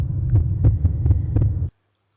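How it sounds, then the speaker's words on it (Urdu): Heartbeat sound effect for a horror story, a steady low thumping pulse repeating about six times over a deep throbbing hum, loud and close, then cutting off abruptly into silence. "جوں جوں وہ قریب پہنچا، اس کا دل تیزی سے دھڑکنے لگا۔"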